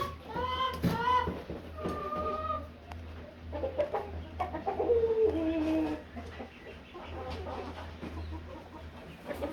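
Chickens in a farm barn, formerly a horse barn, cluck and squawk in overlapping bursts close by, with a steady low hum underneath.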